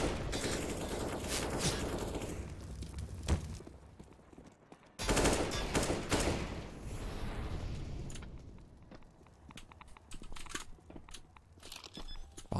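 Gunfire echoes on the Train map in Counter-Strike during an ESEA league match, with rapid rifle bursts and single sharp shots amid gritty game noise, some close and loud, others fainter.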